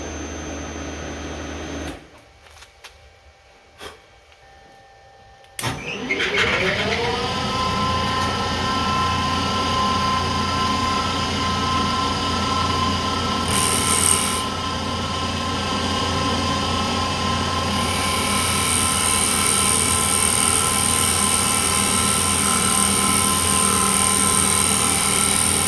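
A milling machine spins up after a brief quiet gap, then runs with a steady mechanical whine and hum as a custom form tool cuts wood, cutting noise rising slightly as it continues.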